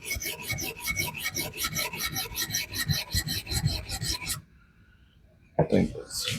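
Steady rhythmic rasping strokes of a knife blade on a resin bonded diamond sharpening stone from a budget fixed-angle 1k-12k set, carrying on for over four seconds, then a brief quiet pause before scraping briefly resumes.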